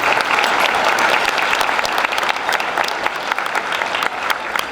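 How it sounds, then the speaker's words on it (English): An audience at a Rotary club luncheon honoring a Board of Education claps in dense, sustained applause, steady and loud throughout with no pause. "So if we can have one more round of applause for our Board of Education."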